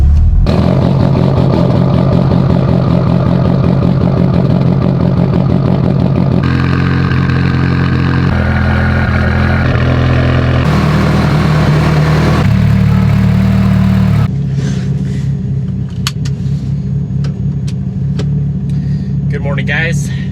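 A 700+ horsepower Mitsubishi Evo 8 running on E85 idles while warming up, a steady, loud, rumbling engine note with slight shifts in tone and voices faintly underneath.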